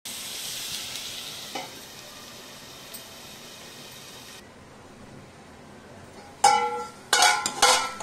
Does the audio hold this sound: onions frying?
yes